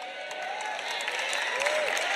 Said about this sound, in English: That's all the tithers that are clapping, by the way.